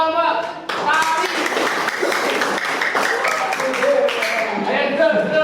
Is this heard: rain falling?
no